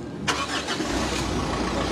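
Mitsubishi L200 pickup engine cranking and catching, a short starter burst that settles into a steady idle rumble, fairly close and without any voices.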